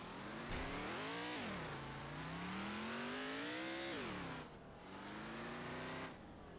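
A car engine in a zombie driving video game revs hard, rising and falling in pitch through several long surges with a brief drop near the end, loud and continuous, no talking.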